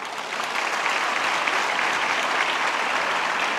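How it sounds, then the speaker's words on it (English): Loud, dense applause from a university convocation audience greeting a visiting guest, a legendary Sri Lankan cricketer, building quickly and holding steady with no talk over it. "Please give a big round of applause for Deshabandhu Arvinda De Silva ji"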